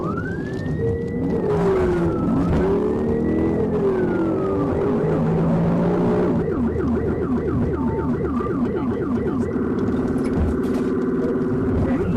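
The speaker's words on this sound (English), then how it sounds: "Trooper Langley activated his siren, officially initiating a pursuit" A police car siren wails during a high-speed pursuit on the road, first a rising and falling tone, then a fast repeating yelp, loud and continuous over engine and road noise.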